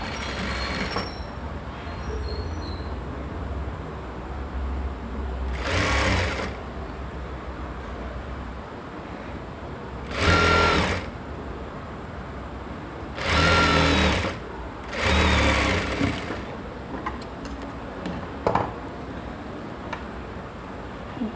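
Sewing machine stitching lehenga fabric for a three-layered ruffled skirt, running in several loud, steady whirring bursts of a few seconds each, separated by quieter pauses.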